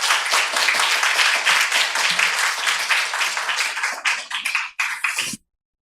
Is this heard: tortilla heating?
no